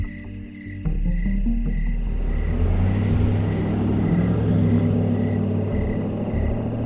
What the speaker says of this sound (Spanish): Un coche pasa por la pista forestal y la piara desconfía.